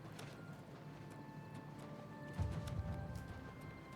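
Horse hooves clip-clop in Oblivion Remastered, a steady patter of light steps under sustained game music tones, growing a little busier toward the end.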